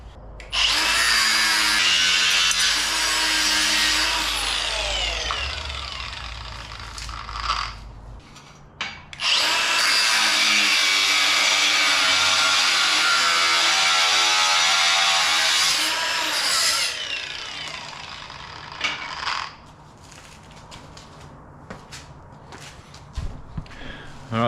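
A power tool cuts bolts down to length, its loud, steady grinding whine running in two long bursts with a short pause between, followed by quieter handling noises and clanks.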